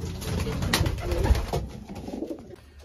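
Belgian pigeons cooing in a breeding loft during breeding season, soft low coos from nearby birds over a background of rustling and shuffling.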